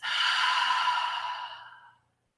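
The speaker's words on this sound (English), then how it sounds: "we're going to use an inhale through our nose and an exhale out the mouth" One slow breath drawn in through the nose and released out through the mouth during a guided breathing exercise, heard as a long soft airy exhale that fades out after about two seconds, close and alone.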